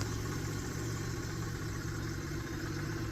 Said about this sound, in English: When you're running your ski on the trailer